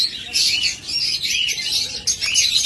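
A pair of white pied cockatiels chirps in close, shrill bursts, with repeated high calls and short pauses between them.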